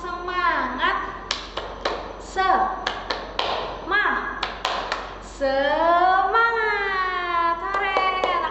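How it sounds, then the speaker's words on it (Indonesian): A classroom of children doing the rhythmic 'tepuk semangat' clapping routine, with quick patterned claps and taps under loud, chanted voices that rise and fall with the beat. "gimana kalau kita tepuk semangat dulu?"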